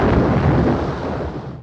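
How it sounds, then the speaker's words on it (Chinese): A thunderstorm with heavy rain gives a loud, low, rumbling roar, like thunder mixed with a rainstorm, that fades slightly over about a second and a half; no talking. "倾盆大雨瞬间到来，雷电交加，让莱西更加害怕。"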